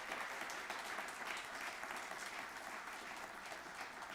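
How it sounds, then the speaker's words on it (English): An audience at an annual children's calendar awards ceremony claps steadily for the teachers, a dense, even round of applause heard from a distance and sustained throughout. "Can we have a round of applause for the teachers?"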